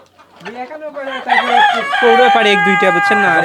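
Egyptian Fayoumi chickens cluck and a rooster crows loudly and close by, the calls overlapping in a busy run of farmyard noise.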